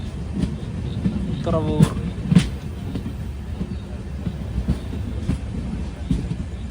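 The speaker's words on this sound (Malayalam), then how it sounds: "ട്രെയിൻ ഇത് തുറവൂർ റെയിൽവേ സ്റ്റേഷനിലേക്ക് എത്തുകയാണ്" The Guruvayur–Thiruvananthapuram Intercity Express rolls into Thuravoor railway station with a continuous rumble and scattered wheel clacks, while someone talks over it.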